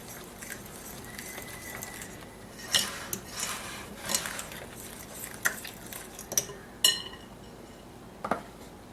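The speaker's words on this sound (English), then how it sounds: "Mix with a fork, don't over stir." A fork mixing flour for homemade white bread in a bowl, giving faint, scattered clinks and light scrapes against the bowl at an uneven pace, close by and quiet.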